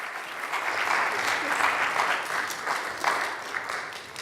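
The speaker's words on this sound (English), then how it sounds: "Please give them a round of applause, ladies and gentlemen." Sustained applause from an audience at a Long Island melanoma prevention event, steady and fairly loud throughout with dense clapping and no pause.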